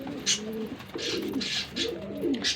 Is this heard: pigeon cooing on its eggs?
yes